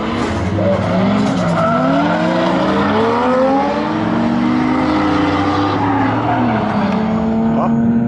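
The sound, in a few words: drift car with 1JZ engine skidding at drift event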